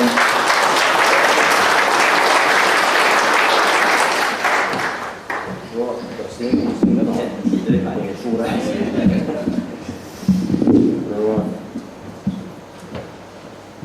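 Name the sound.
applause at a funeral service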